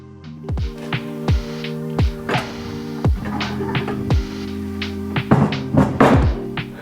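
A series of dull, hollow thunks and knocks at irregular intervals over a low mechanical hum as a bearing is pressed into a Toyota R154 manual gearbox.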